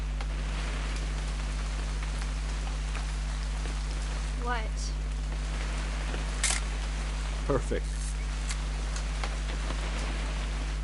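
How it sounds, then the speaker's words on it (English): Steady rain hiss from the video game What Remains of Edith Finch runs throughout beneath a low constant hum, with a couple of short spoken words and a few sharp clicks. "It's gonna rain the whole weekend,"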